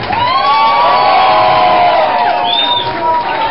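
Large crowd cheering and whooping loudly, with sustained shouts and voices over a dense roar, close and continuous across the whole stretch.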